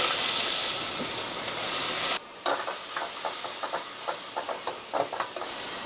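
Sliced onion sizzling in hot sunflower oil with cinnamon for a dry mutton dish in a home kitchen: a loud steady hiss that suddenly drops, followed by repeated scraping stirs over a softer sizzle.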